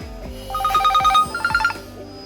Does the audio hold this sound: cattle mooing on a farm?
no